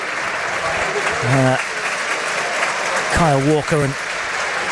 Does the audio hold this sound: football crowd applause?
yes